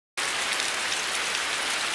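Heavy rain pours steadily and evenly, a dense, hissing downpour that is close and continuous with no voices over it.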